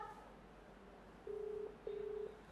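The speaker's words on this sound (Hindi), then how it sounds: "घंटी जा रही है, आप आवाज सुन सकते हैं, बेल जा रही है संदीप जैन को" Two steady ringback tones on a phone line, each lasting under half a second, separated by a pause, faint and alone without voices.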